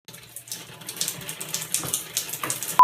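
Water running from a rinser hose at a campground dump station, a steady splashing hiss with gurgling surges, close by and alone throughout.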